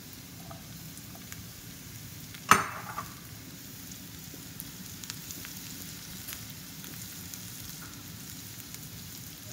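Zucchini frying in butter in a pan, a soft steady sizzle throughout with one sharp clack of utensil on pan early on.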